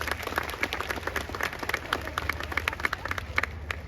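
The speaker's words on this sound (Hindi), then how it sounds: "अगर आप अपनी माँ से प्यार करते हैं तो एक बार जोरदार तालियां होनी चाहिए।" Audience applause at the All India Jaiswal Mahotsav function, a crowd clapping in a dense, fairly quiet patter throughout, heard from within the hall.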